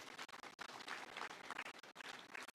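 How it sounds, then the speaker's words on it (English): Audience applause for ambassadors and high commissioners at the official opening of Bunge Towers, a broadband roar of clapping with brief dips, fairly soft and distant in a large hall. "The ambassadors and high commissioners who are here, give them a round of applause."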